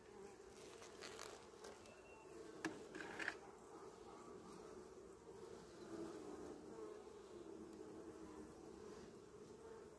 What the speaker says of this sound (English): This is the sound of happy bees.